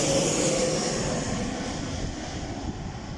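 A Ryanair airliner passes overhead, its jet engines a loud, broad roar that slowly fades as the plane moves away, with no talking.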